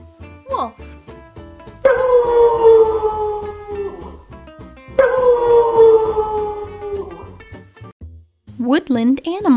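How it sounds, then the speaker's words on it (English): A wolf howls twice, each long wavering call sliding downward and trailing off, over soft background music that continues between the howls. "Wolf."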